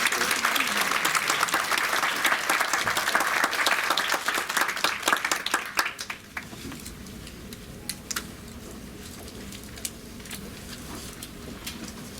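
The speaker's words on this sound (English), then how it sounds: "Once again, a big round of applause to" Audience applause welcoming two speakers to the stage at an evening talk on Japanese netsuke, full crowd clapping for about six seconds that thins into a few scattered claps, then near quiet.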